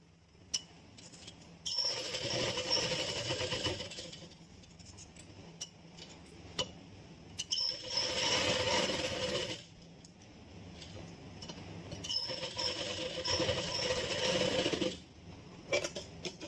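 Sewing machine stitching the collar of a kurti, running in several bursts of a few seconds each with rapid needle clatter, close and moderately loud, separated by quiet pauses with small handling clicks and no talk.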